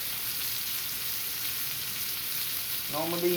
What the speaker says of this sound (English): So while that thing is searing right there, so it's almost got that sear.